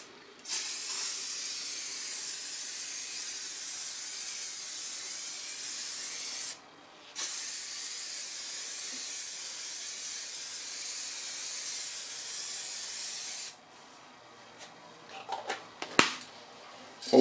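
Matte fixative varnish sprays from an aerosol can onto a home-printed speedometer cluster face in two long, steady hissing bursts separated by a short pause, close and fairly loud, followed by faint handling noises.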